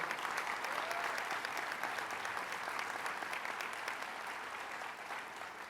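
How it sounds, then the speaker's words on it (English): An audience at a New York state government announcement on a worker exploitation task force breaks into a steady round of applause, dense and sustained throughout, with faint voices mixed in. "Let's give him a round of applause."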